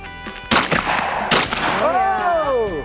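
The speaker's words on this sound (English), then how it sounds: "shooting a gun" Two sharp shotgun blasts at clay targets during a trap shooting session, about a second apart, loud and close, with a voice calling out between shots.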